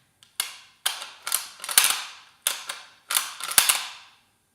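A freshly cleaned bolt-action rifle has its bolt worked repeatedly, giving sharp close metallic clacks and slides in several quick clusters separated by short silences.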